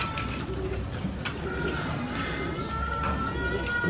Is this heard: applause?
no